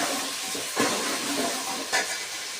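Curry leaves, cinnamon bark and chillies crackle and sizzle in hot oil, a steady close hiss with two brief louder bursts as ingredients hit the pan.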